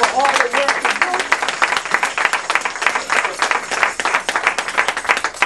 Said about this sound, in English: I want y'all to give Elder Carly Town a round of applause